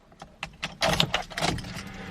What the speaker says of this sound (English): let me get the keys real quick. Put them in the ignition.